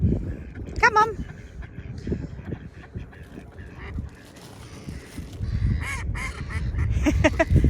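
Ducks quack and honk in bursts at morning feeding time, calling near and far, while a person talks to them over the flock.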